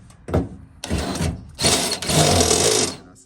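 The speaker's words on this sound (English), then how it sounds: "drill out this hole, make it a little bit bigger" A power drill bores out a bolt hole in the door of an '87 Monte Carlo SS G-Body, close and loud in several bursts of whirring and grinding separated by short pauses.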